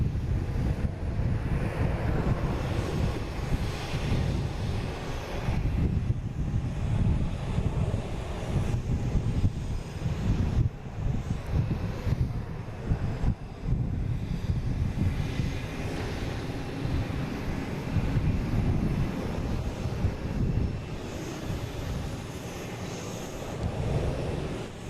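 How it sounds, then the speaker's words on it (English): An American Airlines jet takes off bound for Dallas-Fort Worth, a steady, loud roar of engine noise with wind rumble on the microphone, sustained without a break and no voices over it. "we got American taking off, heading to Dallas-Fort Worth"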